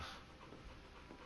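A puppy in the Final Fantasy XVI video game pants in quick, soft, rhythmic breaths, faint and close, with no talking.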